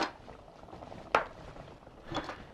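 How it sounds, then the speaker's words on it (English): Chicken sauce for fettuccine Alfredo simmers and bubbles in a pan, a faint, steady seething hiss with a brief sharp clink of cookware near the middle. "It's boiling away, as you can see."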